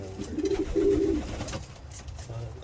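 A breeder's pigeons coo close up in a short run of low, pulsing coos near the start, then the calls stop and quieter handling noise and a bit of background remain.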